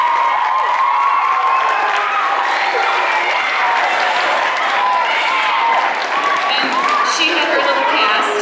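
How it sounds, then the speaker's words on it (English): A school winter band concert audience applauds an eighth-grade announcer, a loud, continuous wash of clapping from a large crowd with scattered voices and cheers running through it. "if you'll please give her a round of applause"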